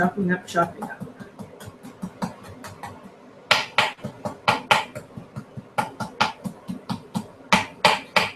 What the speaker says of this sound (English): You can see I'm chopping up.